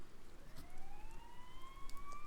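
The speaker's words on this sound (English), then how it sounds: "You hear sirens nearby." Police sirens in the video game Persona 4 Golden, two rising wailing tones sweeping steadily upward over a low rumbling background, moderately loud and continuous with no talking.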